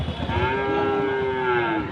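A calf at a village cattle market gives one loud, close, drawn-out moo that fills the moment.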